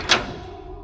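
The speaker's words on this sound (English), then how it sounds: "I heard the bedroom door open." A single soft click as a bedroom door opens, followed by a faint, fading, low creak with no voices.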